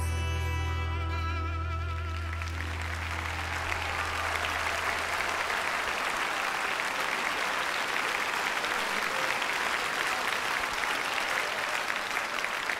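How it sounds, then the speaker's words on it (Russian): Concert audience in the State Kremlin Palace breaking into loud, sustained applause as a sung song with held chords fades out, the dense clapping continuing evenly for over ten seconds. "огромное спасибо за ваши аплодисменты"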